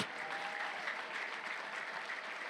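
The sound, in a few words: congregation clapping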